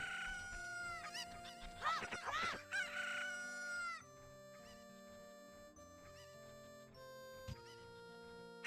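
Cuccos in Ocarina of Time squawk and cluck loudly in a burst of several frantic calls, then fade to occasional clucks over steady game music.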